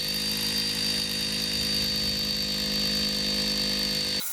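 Hammer drill boring into a concrete slab, a loud, steady whining buzz with a constant high tone, running continuously up close and cutting off abruptly at the end.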